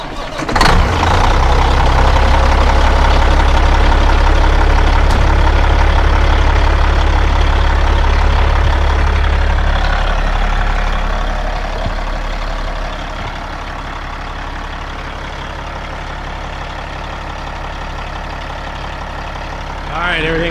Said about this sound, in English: I think we're ready to crank her up.